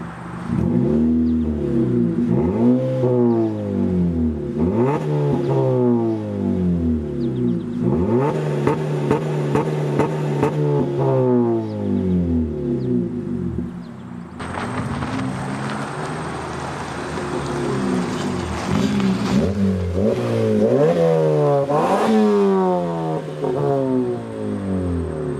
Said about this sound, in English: The car has a great tone in my opinion. It's not too loud, not too raspy